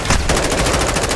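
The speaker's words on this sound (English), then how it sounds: "troops in contact! Taking effective fire!" Rapid machine-gun fire in Call of Duty: Modern Warfare II (2022), a loud, steady stream of evenly spaced shots at close range with no talk over it.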